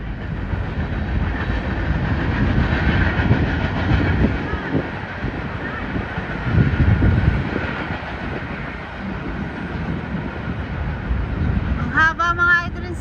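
A long cargo train rumbles past a busy park on a Sunday, a loud, continuous heavy rolling roar with rail clatter throughout, and a voice briefly at the end.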